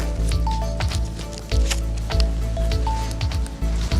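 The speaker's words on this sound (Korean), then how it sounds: "그래서 이런 앞부분에 좀 더 짧게 잘라서 써볼게요" Pompom flower stems being cut short with snips while arranging a flower basket, a series of crisp close snips and squishy cuts repeating every second or so against soft rustling.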